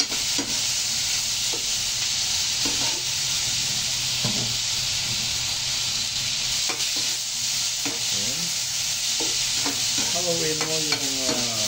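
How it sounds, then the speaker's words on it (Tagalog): Lemongrass, ginger, onion, tomato and garlic are stirred in a hot pan, with a steady sizzle and hiss under repeated scraping and stirring strokes. "Haluin mo yung tanglad, luya, sibuyas, kamatis, at saka bawang."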